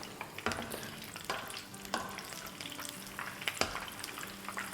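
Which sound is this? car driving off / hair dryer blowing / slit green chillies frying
slit green chillies frying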